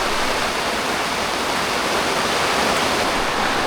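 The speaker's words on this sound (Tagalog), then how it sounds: "Grabe mga papa, sobrang lakas ng ulan." Very heavy typhoon rain pours down in a dense, steady hiss, loud and unbroken throughout, with no voices over it.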